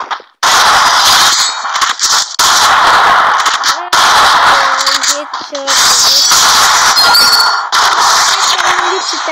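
MP40 submachine gun fire in a shooter video game, loud clustered bursts broken by short gaps, with squeaky high tones and game effects mixed in.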